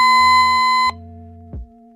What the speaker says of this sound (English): When the monitor receives an alarm signal, it will illuminate and sound an alarm.